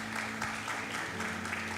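A church congregation claps in welcome during a Sunday service, a steady broadband patter at moderate level, fairly distant, with a low hum underneath and no clear voices.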